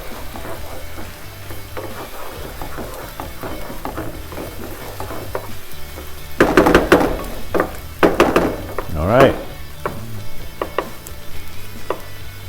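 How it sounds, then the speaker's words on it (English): Ingredients for arroz a la valenciana sizzle steadily in a frying pan while a utensil stirs and scrapes, with a cluster of louder knocks and clatters in the middle, close and alone without talk. "And we just stir all this here."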